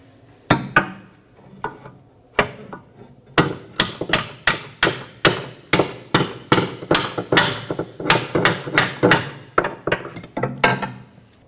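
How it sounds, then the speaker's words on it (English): Hammer tapping a bolt out of a rear upper control arm on a 2015-2023 Nissan Maxima, sharp metallic strikes near and loud, a few spaced hits then a long steady run of regular blows. "Now I'm going to remove our bolt by giving it some light taps with a hammer."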